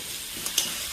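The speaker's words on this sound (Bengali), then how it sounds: "দেখিস না আলু ভাজা করতেছি।" Potato pieces fry in a pan at home, a steady close sizzle filling the short moment with a couple of small stirring clicks and no talk.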